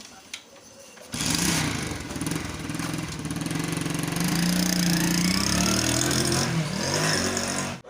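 A scooter engine starts up and keeps running at a steady mid-pitched drone, close and fairly loud, after a short quieter lead-in, with faint background voices.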